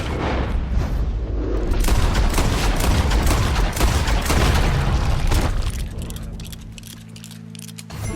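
Gunfire in Red Dead Redemption 2 erupts as a dense, loud burst of shots and booms for several seconds, then drops to a quieter rumble with a final sharp report.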